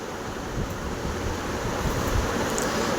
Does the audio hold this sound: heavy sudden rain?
no